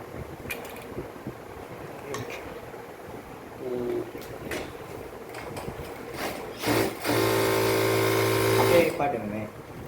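A Singer 9900 sewing machine clicks and creaks, then runs in a loud steady whirring burst of stitching lasting a couple of seconds before stopping, with someone talking over the mechanism.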